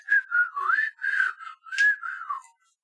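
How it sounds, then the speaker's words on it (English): Someone whistles a short wavering tune, six or so close, clear phrases rising and falling in a quiet room before stopping. "So I'm still whistling"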